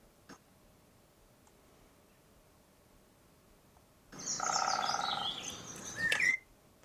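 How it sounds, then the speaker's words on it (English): Faint, sparse woodpecker drumming taps sound over a quiet outdoor background, then a nearby bird breaks into a loud, bright burst of song for about two seconds before it falls quiet again. "There's drumming and another bird singing at the same time."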